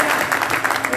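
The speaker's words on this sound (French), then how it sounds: "on acclame le frère" A crowd claps for a brother, with dense, steady applause filling the whole moment, close and lively.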